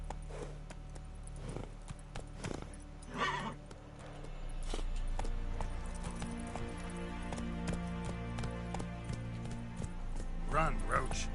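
Roach the horse in The Witcher 3: Wild Hunt clip-clops along at a run, hoofbeats steady and close, with a neigh and some game voices and ambience mixed in.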